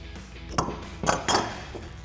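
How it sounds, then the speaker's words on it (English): A large adjustable wrench clinks metallically against a car's rear camber arm in a garage, giving three brief, close knocks over about two seconds. "so you may need to use a large adjustable wrench. And adjust the lower part of the arm as well."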